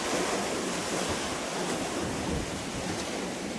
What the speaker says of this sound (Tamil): ரைட் ஹேண்ட் சைடு கடல் வந்து ரொம்பவே ஹெவியாக இருக்குது